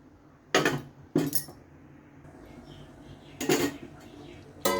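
A spoon scrapes and clanks against a metal pot as dry spices are stirred into mutton curry, giving four sharp, separate metallic knocks over a low kitchen background.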